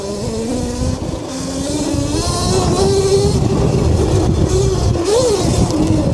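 A motorcycle is ridden hard, its engine droning loudly and close with rising and falling pitch as it revs and shifts, continuous over the whole stretch without talking.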